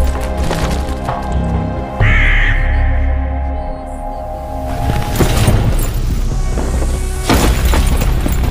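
In the PUBG Mobile video game at night, crows caw repeatedly in harsh, spaced calls, mixed with wooden splintering cracks and game effects, all fairly loud and close throughout.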